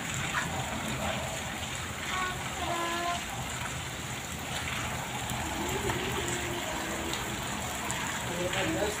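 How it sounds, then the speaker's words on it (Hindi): Heavy rain pours steadily during a storm in Punjab, Pakistan, with strong wind, making a dense, continuous broadband hiss and splatter of water that holds constant the whole time, while people talk faintly underneath. "पिछले एक घंटे तो बारिश पै रही है"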